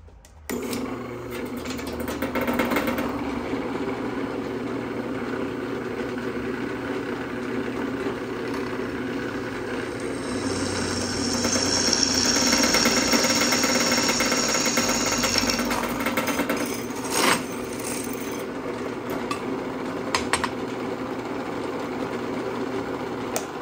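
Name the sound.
drilling a hole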